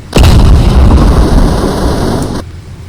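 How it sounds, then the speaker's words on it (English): Gun fire from a tank build in the video game Plane Crazy sounds as one loud booming blast that rolls into a sustained heavy rumble for more than two seconds, then cuts off sharply. "And this is my gun sounds."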